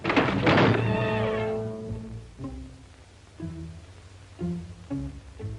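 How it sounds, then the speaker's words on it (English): A wooden shutter blown by the wind slams against a window with one loud, sharp bang at the start, followed by fainter tonal sounds and softer knocks in an old mystery film. "The wind slammed a shutter against a window."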